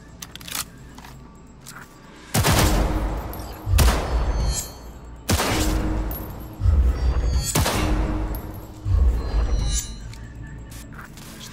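Several sharp, loud gunshot bursts at shooting targets in Cyberpunk 2077 ring out at irregular intervals, each followed by a rumbling decay, with quieter clicks between volleys.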